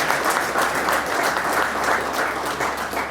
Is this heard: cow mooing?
no